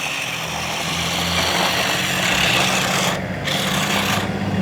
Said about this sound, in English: I just want to show you guys some of the maneuvers as as Bryn is driving the tank around